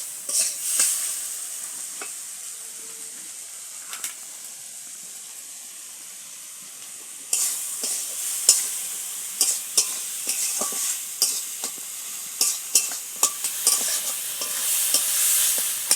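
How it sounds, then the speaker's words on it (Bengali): Salted tomatoes stirred and sautéed in a pan for a vegetable dal: a soft steady sizzle at first, then after a pause louder, close scraping stirs and clacks repeat over a continuous hissing fry. "যতক্ষণে টমেটোগুলো গলে যায় ততক্ষণ ধরে একটু ভালো করে কষিয়ে নেব।"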